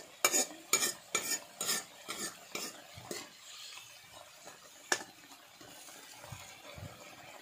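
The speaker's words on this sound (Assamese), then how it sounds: "তেতিয়ালৈকে মই এনেকৈ ভাজি থাকি" Potatoes and vegetables stirred and fried in a pan give a run of rhythmic scraping strokes with a light sizzle, loud at first, then thinning to sparse clinks and soft frying sounds.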